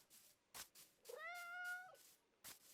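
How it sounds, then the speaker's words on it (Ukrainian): A Minecraft cat gives a single clear, drawn-out meow amid soft, sparse clicking game sounds, fairly close and otherwise quiet. "Котики гуляють."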